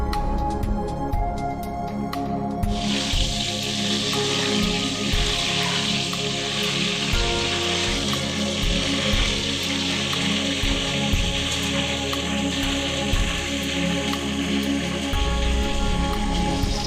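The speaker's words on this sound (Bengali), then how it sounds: "এবার আমি ফুলকপিগুলোকে ভেজে নেব।" Cauliflower florets frying in hot white oil in a wok, a steady dense sizzle and crackle that flares up after a couple of seconds and keeps bubbling loudly throughout, with no talking.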